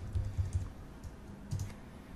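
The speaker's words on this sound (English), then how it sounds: "I'm just going to type in a symbol here." A few quick, soft keystrokes on a computer keyboard as a symbol is entered into trading software, short tapping clusters that are close up and faint, with no talking.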